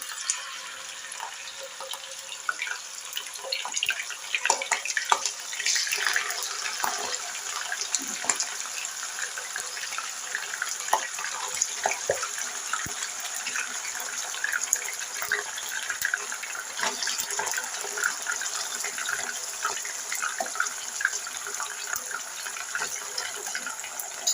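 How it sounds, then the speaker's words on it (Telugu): Chicken pieces for a pickle fry in hot oil with a continuous, dense sizzle and scattered pops that hold steady and fairly loud throughout. "ఆయిల్ అయితే హీట్ అయింది కదండి, ముక్కలు అయితే వేసుకుందాం. చికెన్ ముక్కలు అయితే బాగా వేగాలి"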